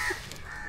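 Crows caw nearby while being fed flour, one sharp call standing out clearly over quiet background noise.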